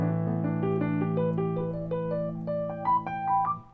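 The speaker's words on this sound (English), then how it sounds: "If I don't have the pedal down, it's going to sound like this." Piano arpeggio played without the sustain pedal, each note clipped short and distinct as the line steps upward, close and moderately loud, no voices.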